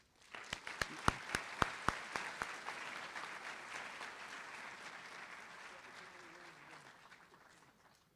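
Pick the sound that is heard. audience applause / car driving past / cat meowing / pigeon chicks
audience applause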